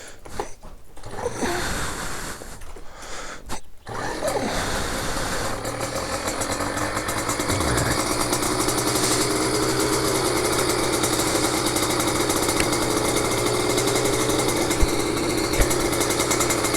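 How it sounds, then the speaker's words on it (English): A motorcycle warming up, its engine idling with a steady, rough mechanical chatter that grows fuller after the first few seconds and holds close and loud with no talk. "we're warming up the bike"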